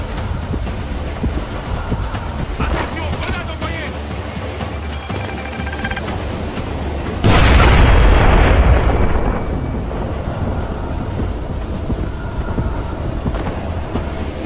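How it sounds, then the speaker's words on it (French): A grenade explodes in the stealth video game Splinter Cell Blacklist, a sudden loud, deep boom over steady rumbling background ambience, followed by a decaying rumble and faint high ringing. "Attention, grenade envoyée."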